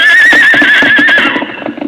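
A strong horse gives a loud, close whinny that wavers for about a second before trailing off into snorts and shuffling movement.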